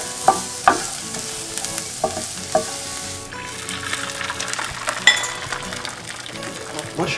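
Dandelion greens sizzle and fry in a hot pan while being stirred, with sharp clinks of a utensil against the pan and a steady crackling hiss, close and loud.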